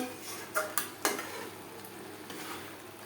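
Mutton curry with potatoes being stirred in a pan, with a few distinct scrapes and clinks of a spoon against the metal over a soft, steady cooking hiss, heard close and alone without talk.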